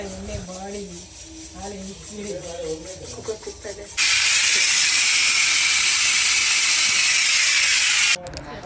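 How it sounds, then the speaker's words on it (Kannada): A pressure cooker on the stove while mutton curry cooks lets out one long, loud steam whistle, a steady harsh hiss that cuts off abruptly after about four seconds, following a stretch of someone talking nearby. "ಅಮ್ಮ ಪಕ್ಕದಲ್ಲೇ ಮಟನ್ ಸಾರಿಗೆಲ್ಲ ಪ್ರಿಪೇರ್ ಮಾಡಿ ಕುಕ್ಕರ್ ಕೂಗೋದಕ್ಕೆ ಇಟ್ಟಿದ್ದಾರೆ"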